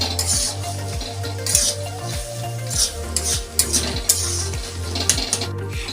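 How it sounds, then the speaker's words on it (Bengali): Banana flower and shrimp ghonto stirred in a pan, with a spoon scraping and tapping in a steady repeated rhythm over a low sizzle, close and clear. "একটুখানি হালকা করে নেড়ে নিয়ে আমি নামিয়ে ফেলব"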